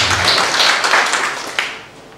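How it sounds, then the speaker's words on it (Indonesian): A church congregation at a Good Friday service claps together in a dense, sustained wash of applause that stays loud for about two seconds before slowly fading. "Tepuk tangan bagi Tuhan."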